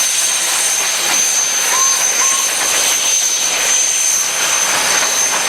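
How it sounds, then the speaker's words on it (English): A McLaren steam traction engine blows off steam very hard, a loud, steady, broad roaring hiss that carries unbroken through the whole stretch. "I can see the McLaren blowing off very hard"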